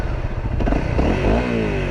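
A 2018 Honda CRF250L dirt bike engine revs up close and loud, its rough, clattery exhaust note rising in pitch over two seconds with no talking.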